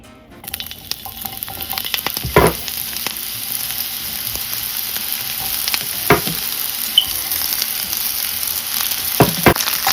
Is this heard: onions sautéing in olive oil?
yes